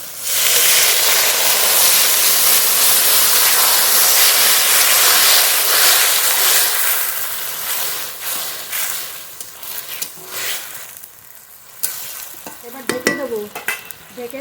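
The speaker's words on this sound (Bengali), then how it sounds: "এবার জল দেবো জল" Loud, steady sizzle as water hits a hot pan of fried fish with slit green chillies for a Bengali fish curry, the hiss dying down over several seconds into quieter bubbling and stirring.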